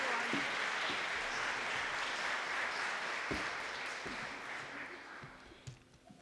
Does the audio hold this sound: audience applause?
yes